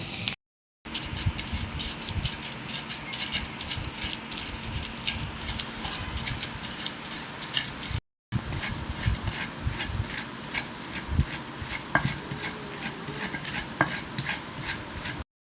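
Roasted chapa dried fish gets mashed for bhorta in repeated rhythmic pounding and grinding knocks, dense and close, running steadily with a short break midway and no speech.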